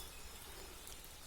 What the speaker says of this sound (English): I'm not sure how much filming will get done because of this rain.